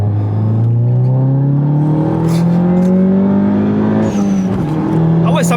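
Stage 2 Volkswagen Golf 7 GTI accelerating hard, its engine note climbing steadily and loud from close by, with crackling exhaust pops near the end as excited voices exclaim in French over it.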